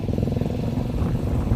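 A motorcycle engine runs nearby with a steady, loud, throbbing low rumble that holds throughout without clear revving.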